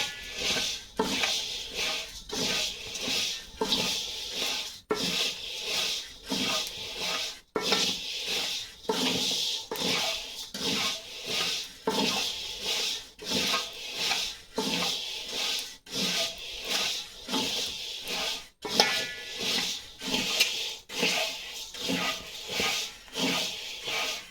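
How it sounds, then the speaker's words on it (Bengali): Rice stirred through hot sand in a wok to make puffed rice, a close, rhythmic scraping and rasping that repeats in strokes roughly every second, steady throughout with no talking. "মা মুড়ি ভাজছে"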